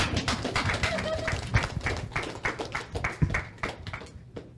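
An audience at a seminar on income claps in a loose, uneven patter of hand claps, some sharp and close, with talk mixed in.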